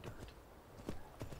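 Hooves of a carriage horse in the Skyrim video game clip-clop in a few sharp, uneven beats, fairly close against a soft background hum.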